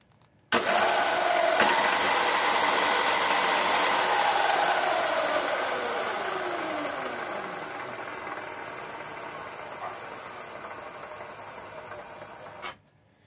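Electric motor of a Razor e300 scooter, tipped over and running under throttle on a 40.6-volt battery, a loud steady whine that winds down slowly over about twelve seconds before cutting off abruptly.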